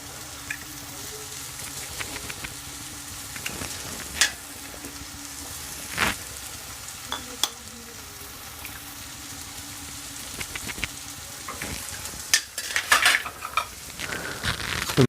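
Egg bhurji made with five eggs is stirred and fried in a pan, a quiet crackling sizzle broken by repeated sharp clinks and scrapes of a utensil against the metal, busier toward the end.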